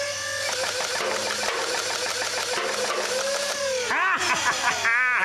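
Nerf bolt pistol blaster firing on a range, a rapid mechanical whirring and rattling cycle that runs continuously, followed by a couple of rising and falling whines near the end, close and fairly loud.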